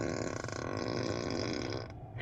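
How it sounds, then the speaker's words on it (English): An artificial fart sound played through the cabin speakers of a Tesla Cyberbeast Foundation Series pickup, one long loud buzzy blast that cuts off abruptly near the end. "anytime you press the left scroll wheel, which is the one over here, it'll make a farting sound"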